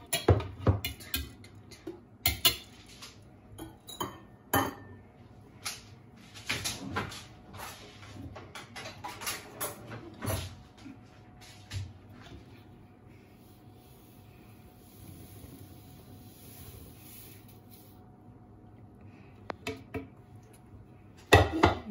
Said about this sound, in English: Now we're going to combine our wet and dry ingredients.